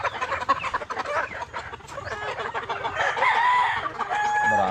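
Roosters crowing repeatedly at a farm where young gamecocks are kept, several long drawn-out calls overlapping one another amid clucking fowl and steady background noise, with no talk.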